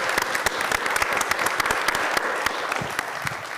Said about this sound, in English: So maybe a round of applause for Bogdan, I think.